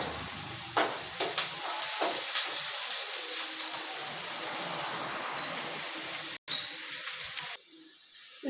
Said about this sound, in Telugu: కోచిన ఉల్లిపాయలు పాన్లో వేసుకుంటాం. ఆయిల్ వేసేస్తున్నాను.